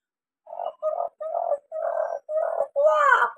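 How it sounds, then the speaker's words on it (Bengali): A waterhen calls from dense jungle and water hyacinth at dawn: six short throaty notes in quick succession, each a little stronger than the one before, ending in a harsher, rising note, close and clear. "বন জঙ্গলের ভিতরে বিলিতি পানার ভিতরে ডাকছে ডাক পাখি।"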